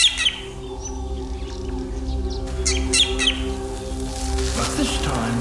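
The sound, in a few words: drongo false alarm call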